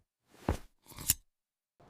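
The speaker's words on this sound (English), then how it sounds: "He took his large scissors and carefully cut open the sleeping wolf's belly. After a few snips" Large scissors snipping, two crisp separate cuts about half a second apart followed by the start of a third, close and clear against silence.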